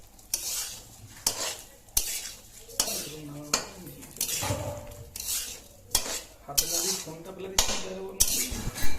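Raw pulao rice fries in a wok under a low sizzle while a spatula scrapes and clinks against the metal in regular strokes, about one stroke every second, close and clear.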